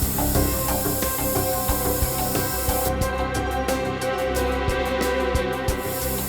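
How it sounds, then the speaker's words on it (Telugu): A forensic blood-detection spray hisses in a steady, continuous rush over a crime scene, loud and close, with a rhythmic pulsing texture partway through and no talk. "ఇక్కడ రక్తం చెదురుంటే ఈ స్ప్రే చూపించేస్తుంది"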